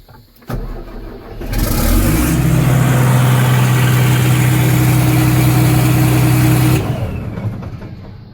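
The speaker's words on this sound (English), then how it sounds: "I like the machine. It's got a throaty sound to it." A Massey Ferguson tractor engine cranks and catches, then runs at a loud, steady, throaty idle up close for several seconds before the level falls off.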